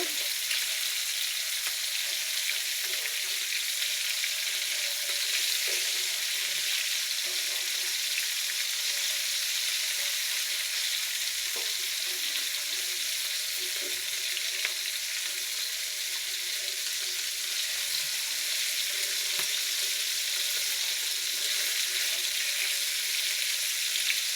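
A steady, unbroken hiss of chapila fish frying in oil in a pan, even in loudness throughout with only faint small crackles, and no voices.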